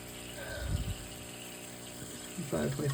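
Water is pumped during an aquarium water change, a faint low mechanical hum with gushing and sloshing bursts, and a few quiet knocks.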